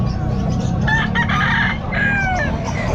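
A Sweater Kelso gamefowl rooster crows twice at a busy pet market in Calumpit, loud and near, over a constant low rumble of background noise.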